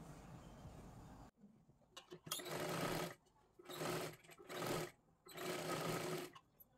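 Sewing machine stitching a double seam on a katori blouse, running in four separate bursts of steady whirring, each lasting about a second or more, close and fairly loud, with brief pauses between them.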